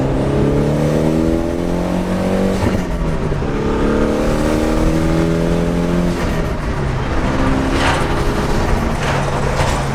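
A Mitsubishi Lancer Evolution engine revs up and drops repeatedly as gears shift, pitch climbing then falling several times, loud and close throughout.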